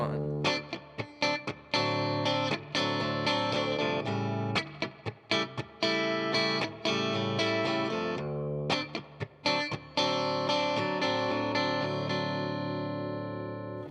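Swampy Midnight Special rhythm strummed on guitar, choppy muted strokes alternating with ringing chords in a steady, loud, close pattern with short gaps between bursts.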